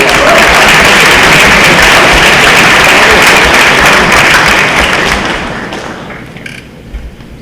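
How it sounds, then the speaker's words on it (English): A banquet audience at a junior varsity and ninth grade football banquet breaks into dense, loud, sustained applause that fills the room, then thins and fades out over the final couple of seconds. "Pam Province, please give her a round of applause."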